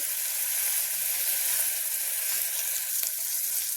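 Carrots fry in a pan for a foxtail millet pulao, giving a steady, dense sizzle that holds at an even loudness throughout, with a faint knock near the end and no talking.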